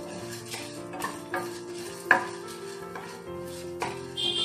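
Spices dry-roasting in a pan on the stove while making poricha rasam, with steady stirring scrapes, light crackling and a few sharp clinks of the spoon against the pan, close up and with no talking.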